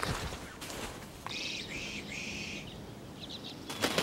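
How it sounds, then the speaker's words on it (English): Small common redpolls flit about a bush in winter, giving a few thin, high chirps and short twittering calls over faint rustling and flapping wings, fairly close and without speech. "Okay, we've got some birds in the bush here."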